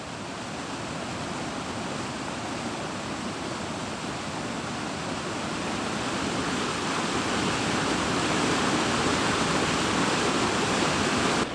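A beautiful waterfall pours beside an open wilderness campsite, a steady full rushing roar that swells slightly louder toward the end, with no voices.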